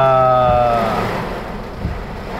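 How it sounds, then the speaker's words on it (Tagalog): Heavy rain and strong wind roar continuously during a storm on the road, with a brief tonal hum fading early on and a broad rushing wash throughout. "Ang lakas ng hangin. Ang lakas ng ulan."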